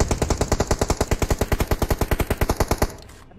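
Rapid automatic gunfire from the battle royale game BGMI, a loud, steady burst of about twenty evenly spaced shots lasting nearly three seconds, then cutting off into a fading tail.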